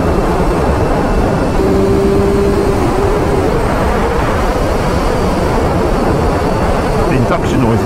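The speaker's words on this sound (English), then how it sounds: "The induction noise is so addictive on this thing." A 2023 Triumph Street Triple 765RS motorcycle on the move, its engine and induction note a low steady drone largely buried under loud, constant wind roar from riding.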